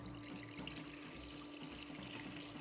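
Milk pours steadily into a pan, a continuous close liquid splash with no talking over it.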